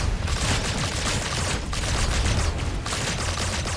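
Dense, sustained gunfire in the Mars colony-building game Hostile Mars, a continuous loud rattle of many weapons firing down range with no pauses and no voices.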